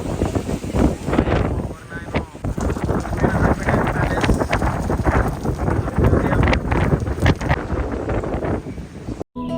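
Strong wind blasts outdoors on a street in St Petersburg, Russia, buffeting the microphone with loud, rough, gusting rumble for several seconds, then cutting off abruptly near the end.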